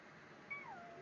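A single cat's meow rises and then falls, heard once at moderate distance over steady background hiss while a nervous cat is led past other cats.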